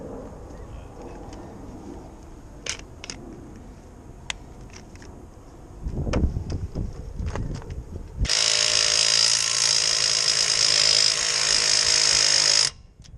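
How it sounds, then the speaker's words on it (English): Scattered clicks and clunks of tool handling, then a loud steady whine of a cordless power drill loosening wheel lug nuts on a 2011 Nissan Altima, running for about four seconds before cutting off. "That's only I think 100 pounds of pressure on that little torque. I mean on that little power drill right there."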